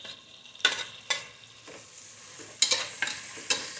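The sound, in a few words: sautéing tomatoes for mushroom biryani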